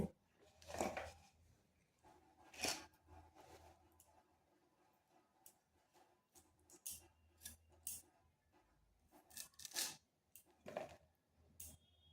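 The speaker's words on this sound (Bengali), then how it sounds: "কুঁদরিটা এইভাবে কেটে নিচ্ছি" A knife slicing through ivy gourd (kundri) on a cutting board, giving several sharp, close chopping taps spaced irregularly across the stretch, fairly quiet, with no talking.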